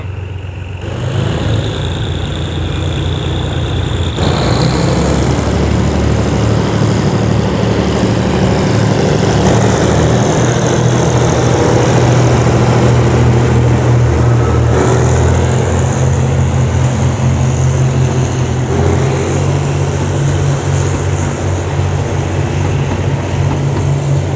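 A loud, rumbling train engine drones steadily as it revs near a railway crossing at Hua Mak, Bangkok, its roar building a few seconds in and then holding at full power throughout.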